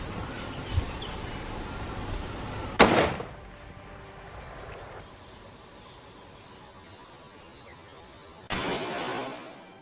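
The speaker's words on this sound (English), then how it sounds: "When the gunshot rang out, the whole forest seemed to hold its breath." Two sharp, loud gunshot cracks in a South African forest, the first ringing out with a lingering decay and the second arriving several seconds later, with quiet outdoor ambience between them.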